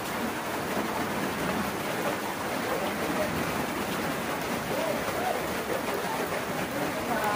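Floodwater rushing into a house, a dense, continuous roar of flowing and splashing water that stays steady throughout, with no clear talk over it.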